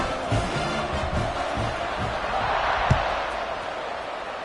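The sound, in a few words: American football stadium crowd buzzing, likely a video game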